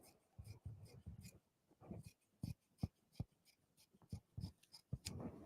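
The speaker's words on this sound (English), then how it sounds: "Take my scissors, and I'm just cutting right down that corner." Scissors snip through quilting fabric along a corner near the selvage, a series of short crisp cuts in an irregular rhythm, close and fairly quiet with no talking.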